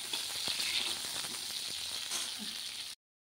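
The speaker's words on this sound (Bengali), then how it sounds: "পটলটা সুন্দর করে ভেজে নেব, কিন্তু পটলে আমি নুন দেবো না, হলুদ দিয়ে ভেজে নেব" Pointed gourd (patol) frying in hot oil with turmeric and no salt, giving a steady, even hiss of sizzling close by that stops abruptly.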